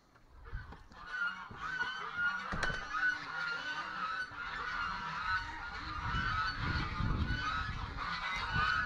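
A flock of geese honking continuously at close range in a farmyard in the morning, with overlapping, insistent calls that build in loudness.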